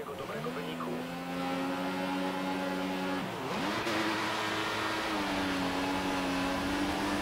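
Formula 1 cars roar and rise in pitch as they pull away at the race start in the F1 2014 racing game at the Japanese circuit, a continuous layered engine whine with a gear shift dip midway.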